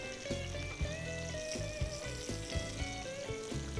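Blackened catfish sizzles and fries steadily in a hot pan, a soft continuous crackle with small pops throughout and no talking.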